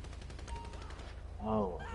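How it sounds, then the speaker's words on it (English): Rapid bursts of video game gunfire in GTA rattle through the first part, with a voice-like tonal sound rising near the end; the shots are moderately loud and busy. "Oh, I hear gunfire."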